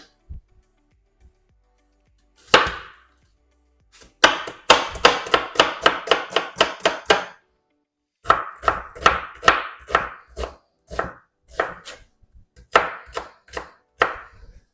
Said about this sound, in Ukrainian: Для початку я наріжу цибульку.